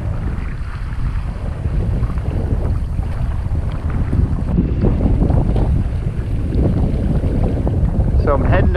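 Strong wind roars steadily across the microphone while a small sailboat runs down Gasparilla Sound, with waves and rushing water underneath and occasional stronger gusts swelling the noise.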